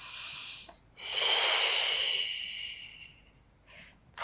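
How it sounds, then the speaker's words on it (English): Slow, controlled breaths during a Pilates mat workout, a long airy exhale following a shorter inhale, close and clear with no talking over them. "In breath. Exhale. In breath."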